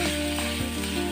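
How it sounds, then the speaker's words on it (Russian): Pork liver frying in a pan over high heat, seasoned with salt and black pepper, gives a steady loud sizzle with a few brief stirring shifts and no talking. "И обжариваю печень на сильном огне,"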